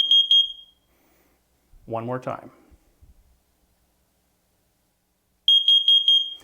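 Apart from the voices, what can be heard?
carbon monoxide alarm test, fast beeping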